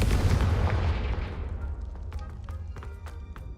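A Confringo fire spell explosion in Hogwarts Legacy, a heavy booming blast that rolls off and decays over a few seconds, followed by faint crackling debris pops.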